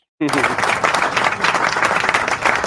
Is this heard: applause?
yes